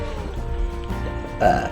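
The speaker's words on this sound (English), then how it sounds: "Sorry, I'm burping." One close, low, drawn-out burp rises near the end, heard over a steady background hum during a hot pepper tasting.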